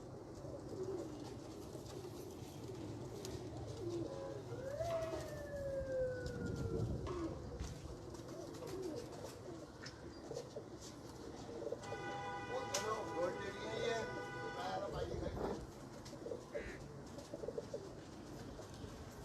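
Rare Royal Teddy pigeons coo in soft repeated phrases close by, over a steady background hum, with a passing siren-like wail and murmuring voices in the distance.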